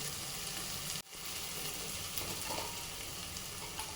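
Paneer pieces frying in oil with masala for palak paneer, a steady close sizzle throughout with one abrupt brief cut near the start, no talking.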